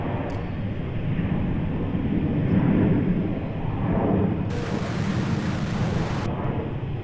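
Qantas Boeing 737 jet at Melbourne Airport, heard as a steady, moderately loud broadband roar that swells slightly midway, with a brief hiss burst toward the end and no voices.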